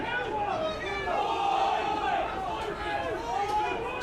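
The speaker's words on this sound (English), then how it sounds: "Screams of hi from the Marys crowd." Crowd of St Marys supporters screaming and shouting at a rugby match against Old Wesley, a sustained chorus of raised voices swelling and falling over a few seconds.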